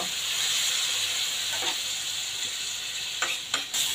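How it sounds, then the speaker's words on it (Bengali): Spices and fried potatoes stir-fry in a pan with a steady loud sizzling hiss, broken by a few soft scrapes and clinks of stirring near the end. "এখন সবগুলো ভালো করে একটু কষিয়ে নিব"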